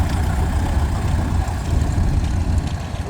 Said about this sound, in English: This also is a petrol carrier tractor.